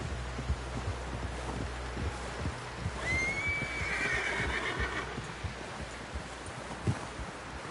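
A single clear horse neigh rises and trails off midway through a scene in Red Dead Redemption 2, set over a low, steady game soundscape with faint thuds.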